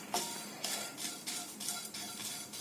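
Red poha (flattened rice) dry roasting on a tawa, with a series of crisp scraping, rattling strokes about every half second as the flakes are stirred, moderately close and steady, with no voices.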